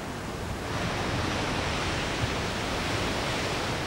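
Big ocean waves breaking at a remote surf break, a steady broad roar of surf and wash that swells slightly after the first second and holds constant, no voices.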